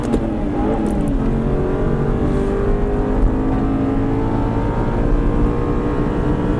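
An Aston Martin V8 Vantage engine drones loudly and steadily at Silverstone circuit, the revs climbing gradually under acceleration with a rich, close-up exhaust tone.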